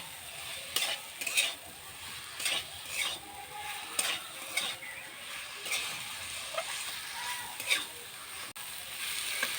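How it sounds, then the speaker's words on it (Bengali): Pointed gourd and potato frying with spices in a pan, a low continuous sizzle punctuated by regular scraping strokes of a spatula, fairly quiet and close, with no clear speech. "দেখুন পটল আর আলু মশলার সাথে ভালো করে কষিয়ে নিয়েছি"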